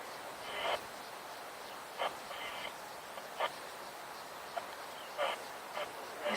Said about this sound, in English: All I can hear is an Egyptian goose